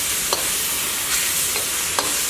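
Garlic stir-fried with soy sauce and sesame oil in a hot pan, giving a steady close sizzle with a few light scraping stirs of the utensil.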